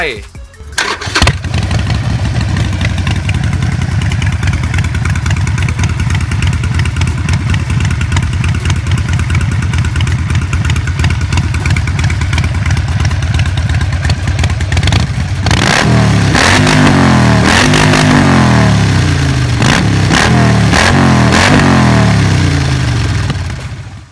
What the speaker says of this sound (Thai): มันคือ Harley Davidson 48